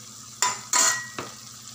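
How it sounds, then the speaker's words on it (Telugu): Spices frying in hot oil for a curry get stirred in three quick scraping strokes, each with a sizzling hiss over a steady low frying background, close and clear with no talk. "ఇలా ఫ్రై చేస్తే స్పైసీస్ అన్నీ బాగా ఫ్రై అయిపోతాయి."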